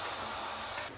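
A paint sprayer machine hisses out a steady, even jet of paint used in a basement remodel, a loud continuous broadband spray held for nearly a second before cutting off abruptly.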